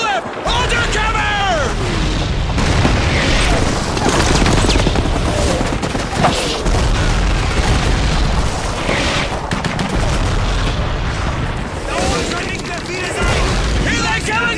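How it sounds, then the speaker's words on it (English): Continuous artillery barrage in the Call of Duty 2 game, with dense rolling explosions and gunfire at high level throughout, while soldiers shout orders over the din. "Artillery barrage! Take cover! Wait for the barrage to lift!"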